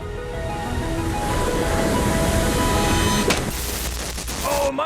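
Large ocean wave breaking at sea, a loud continuous rushing roar of surf and spray that stays steady throughout, close up, with no voices.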